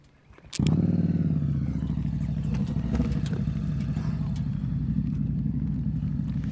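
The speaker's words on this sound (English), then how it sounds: "Let me get my motorcycle." A motorcycle at a slow-speed riding practice session starts up with a sharp onset and settles into a steady, close idle with a throbbing low engine note and faint mechanical clatter.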